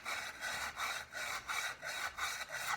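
Chisel edge being sharpened on a stone, a steady back-and-forth rasping scrape repeated in even strokes, close and moderately quiet, with no talking.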